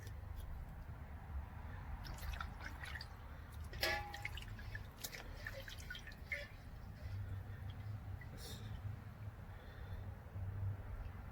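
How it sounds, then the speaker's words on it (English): Water drips and splashes softly over a steady low hum, with brief wet squishing sounds of a cleaned dove being rinsed under cold running water. "And this one I have to rinse in cold water."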